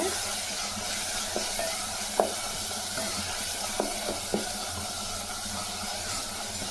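Tomatoes and garam masala powder sautéing in a pan for a quick kurma: an even, close sizzle with a few scattered clicks and taps of the stirring spoon, no one speaking.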